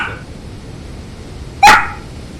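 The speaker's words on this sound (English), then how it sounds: "Why are you barking?" A dog indoors gives a single sharp, loud bark after a quiet stretch of faint room noise.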